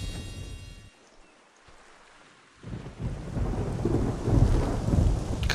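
A thunderstorm in the video game Black & White rumbles with deep thunder, briefly dropping away before heavy rain and rolling thunder swell loud and steady.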